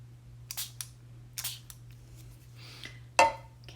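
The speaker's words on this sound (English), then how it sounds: "I'm going to wet that one more time just with my spray bottle" A handheld spray bottle misting water onto a watercolor line-and-wash painting, several short hissing bursts in quick pairs, then a sharper final spritz, fairly close over a steady low hum.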